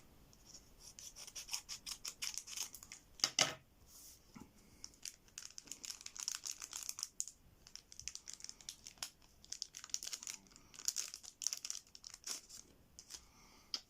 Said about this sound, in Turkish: Arkadaşlar diğer paketi de açayım.